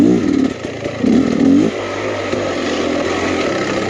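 Beta Xtrainer 300 two-stroke enduro motorcycle ridden on a dark single-track trail, its engine droning steadily up close with brief rising revs early on, then a lower, even running note.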